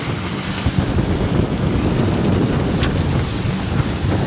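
Strong wind buffets the microphone over choppy open water off Antigua, with whitecapped waves slapping around an anchored boat in a bay; a steady, loud roar fills the whole stretch with no talk.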